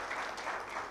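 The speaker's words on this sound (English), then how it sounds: "Another round of applause for Francis." Faint, diffuse clapping from a conference audience in Kampala, a soft, even wash of hands heard from a distance for a moment.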